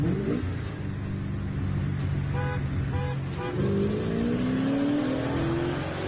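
A Nissan GTR with turbos accelerates hard, engine note rising in a steady climb under road and wind noise, heard at moderate distance from a following car.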